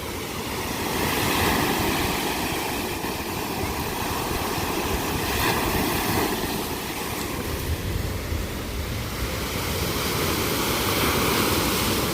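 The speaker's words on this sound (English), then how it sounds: "the wind stops and the waves slow down for a minute, but it'll just pick right back up and it'll get crazy again" Wind-driven waves roll onto the beach at Presque Isle, a loud continuous wash of surf mixed with gusting wind, steady throughout with no voices.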